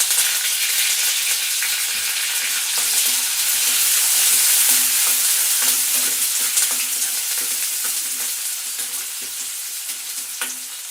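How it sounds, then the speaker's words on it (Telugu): Green chilli, onion and coriander sizzle steadily in hot oil in a pan of cabbage curry, a dense continuous frying hiss heard up close with no talking. "ఇవన్నీ కాసేపు వేగనివ్వాలి"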